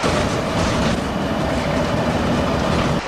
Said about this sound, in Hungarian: Már itt is van a vonat.